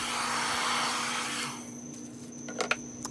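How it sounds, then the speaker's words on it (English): Blow dryer passing over a canvas of poured paint, a loud steady airy roar for about a second and a half before cutting off, leaving quiet room sound with a few light clicks. "You'll see that I only do one pass with the blow dryer on any part of the canvas."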